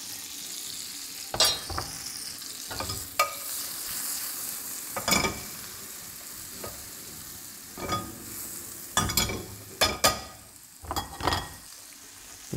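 Mushrooms sizzle softly in butter in a hot pan, with intermittent stirring scrapes and clatters over a steady frying hiss.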